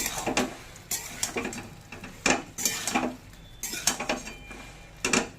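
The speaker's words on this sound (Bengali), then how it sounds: "এবার ভালো করে সব নেড়ে চেড়ে একটু মিশিয়ে নেব" Soybean curry with spices is stirred in a pan, a utensil knocking and scraping the metal in irregular close clacks with softer scuffing between them.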